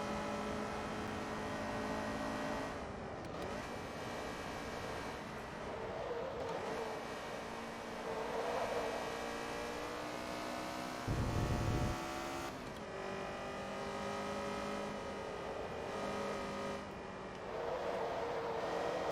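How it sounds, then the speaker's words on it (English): A high, buzzy 200HP racing car engine in the video game Forza Motorsport 2 whines continuously, its pitch climbing and dropping as it revs through gear changes, steady and fairly loud. "the sound of the car, that it does sound like a fart in a tin can"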